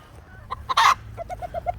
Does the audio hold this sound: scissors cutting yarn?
no